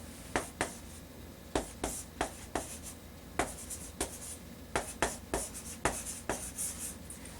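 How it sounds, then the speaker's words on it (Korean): A pen scratches out words by hand in quick, distinct strokes, each letter a crisp scrape, repeating in an uneven rhythm close to the microphone with no voices. "여기에도 단어 하나씩 더 써볼게요"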